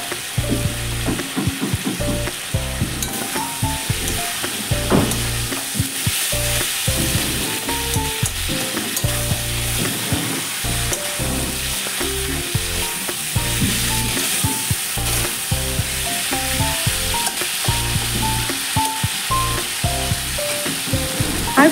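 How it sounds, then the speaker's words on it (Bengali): Kohlrabi and potato sautéing in hot oil with ginger and cumin, a continuous close sizzle with frequent scraping and stirring clatter in the pan, no voices. "তো ভালো করে আমি কষিয়ে নেব ওলকপি আর আলু। আদা জিরে ভালো করে কষিয়ে নেব যাতে কোনো মশলার গন্ধ না থাকে।"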